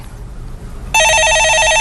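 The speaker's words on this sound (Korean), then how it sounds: "예, 전화 받아보겠습니다." A telephone rings loudly with an electronic warbling trill that starts abruptly partway through and continues steadily, after a quiet moment with faint background noise.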